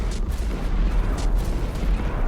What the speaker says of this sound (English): That's one long-lasting explosion, isn't it?